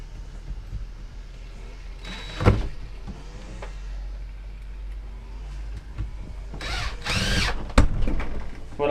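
A power drill drives the bottom screw into a breaker box during a 6x10 enclosed trailer conversion, with a short whirring burst early on and a longer, louder run later over a low background hum.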